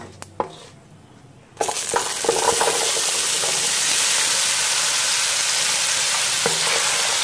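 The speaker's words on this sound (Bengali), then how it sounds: "আমার জিরাগুলো অনেকটাই কালো হয়ে এসেছে। এর মধ্যে এখন আমি সবজিগুলো ছেড়ে দেব।" Vegetables tipped into hot oil with darkened cumin seeds for a Bengali mixed vegetable niramish, a loud, steady frying sizzle that bursts in after a quiet stir and holds to the end, with faint spoon clinks.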